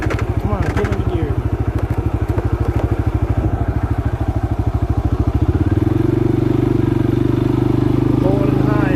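A 2022 CForce 500 ATV engine laboring up a hill, a loud close rapid thumping pulse that shifts into a steadier higher drone partway through, with a voice talking over it.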